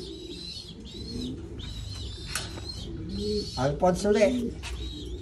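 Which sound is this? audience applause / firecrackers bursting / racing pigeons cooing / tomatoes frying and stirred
racing pigeons cooing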